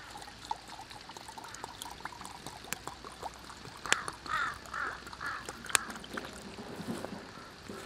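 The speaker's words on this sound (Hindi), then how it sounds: "लोटे को पानी से भर देते हैं" Water is poured into a lota vessel set over mutton cooking in a pot for Himachali bhaddu mutton, a soft continuous pour with a few sharp clinks and splashes at close range.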